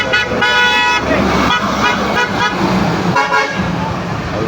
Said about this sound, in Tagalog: ingay ng busina